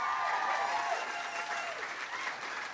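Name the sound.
applause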